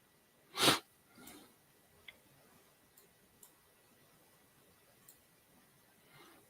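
A dog sneezes once, a sharp close burst in a quiet room, followed by a softer snort and a few faint clicks and ticks.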